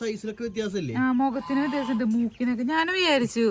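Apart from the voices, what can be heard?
No everyday noises stand out.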